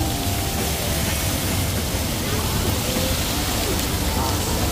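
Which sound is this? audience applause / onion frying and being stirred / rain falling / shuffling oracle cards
rain falling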